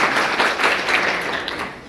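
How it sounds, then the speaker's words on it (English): Scattered clapping from a lecture class, steady and moderately loud for about two seconds, heard alone with no talking over it. "an applause as well"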